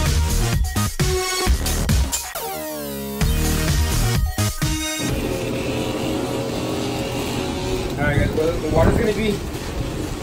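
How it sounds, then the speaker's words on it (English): A lawn mower cutting grass next door runs as a constant engine drone beneath a person talking nearby, with the speech dominating the foreground and the motor noise filling the background. "Sorry about the noise, it cutting the grass next door."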